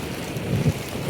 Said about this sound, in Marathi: इतका आमच्याकडे पाऊस जोराचा पडतोय